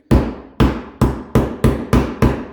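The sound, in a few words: small hammer tapping cone washer into dirt bike plastic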